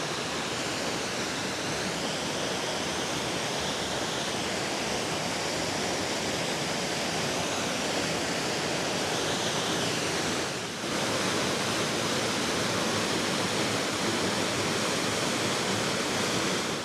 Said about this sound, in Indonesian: air terjun gitu ya